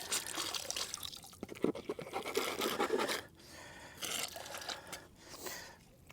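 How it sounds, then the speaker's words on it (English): Black sand being sucked up from a gold pan with a snuffer bottle: close, wet slurping and gurgling bursts with faint scraping, then quieter watery trickling, with no voices. "I'm just going to suck up the black sand."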